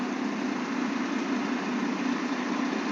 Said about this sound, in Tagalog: Naka-on yung makina niya mga sadik.